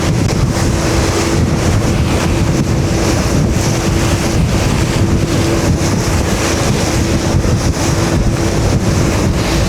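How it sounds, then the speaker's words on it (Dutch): Loud, steady wind roaring and buffeting the microphone aboard a boat near Volendam under a storm warning, over rushing water, with a low engine hum underneath; no talking. "Het waait ook echt hoor"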